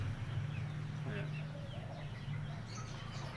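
Hens cluck softly and intermittently at a short distance over a constant low hum of background noise.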